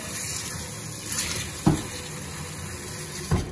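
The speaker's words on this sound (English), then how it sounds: "I can just take my cup of water," Steady running water from a tap, with two brief knocks partway through, quiet and close.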